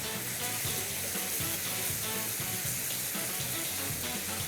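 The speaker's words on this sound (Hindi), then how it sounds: "थोड़ा सा पानी मैं और डाल दूंगा" Water poured into a pan of tomato paste and mince, giving a steady, dense hissing splash that runs unbroken throughout.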